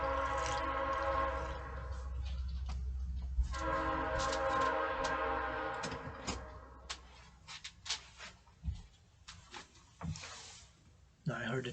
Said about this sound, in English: Now I heard the trains. I'm close to the train tracks.